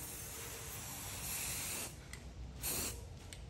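A spray paint can hisses steadily up close onto a shirt, a long continuous spray with brief pauses and two short louder bursts near the end.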